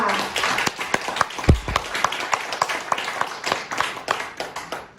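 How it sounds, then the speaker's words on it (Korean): A small, limited-size audience claps at the opening of a newspaper anniversary ceremony and press award event, with distinct individual claps rising and thinning, plus a brief low thump. "힘찬 박수와 함께 시작하도록 하겠습니다"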